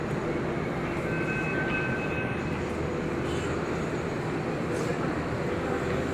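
A crowded Pune underground metro train gives a constant, loud rumble with a faint tonal whine on top, steady throughout, with no distinct door clunk standing out.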